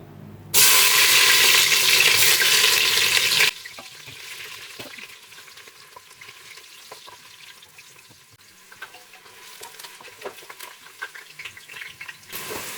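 Onion added to a hot pot for yam porridge: a loud burst of hissing sizzle for about three seconds settles into a quieter, crackling fry with scattered pops and faint stirring.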